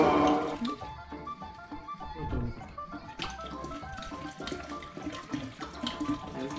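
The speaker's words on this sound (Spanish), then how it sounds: "Por último, le vamos a echar lo mejor, el tequila." Tequila is poured into a cantaritos drink, a liquid trickle and splash that is close and moderately loud, with faint background voices.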